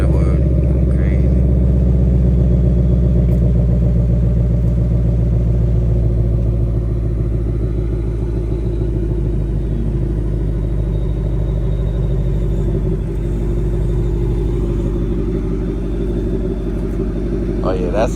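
Ford Mustang S550 engine after its first modification, a deep, loud rumble held steady for the whole stretch with slight swells, close by, with voices talking over it.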